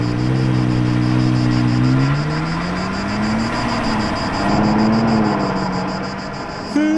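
A Ferrari Purosangue passes nearby, its steady engine hum swelling, easing and rising again before fading, over loud broadband road and wind noise.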